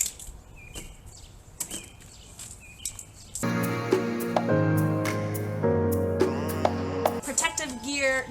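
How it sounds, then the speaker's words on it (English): Birds chirp in brief, scattered calls during the first few seconds, faint under quiet surroundings, before a louder stretch of people talking takes over. "can you guys hear the birds?"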